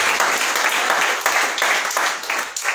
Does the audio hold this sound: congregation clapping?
yes